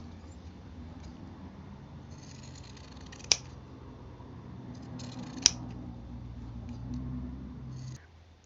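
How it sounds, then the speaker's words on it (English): Pinking shears snip around the edges of fabric quilt squares for a coaster, giving two sharp, close cuts over a low steady background hum. "we're going to use our pinking shears, and we're going to trim all the way around"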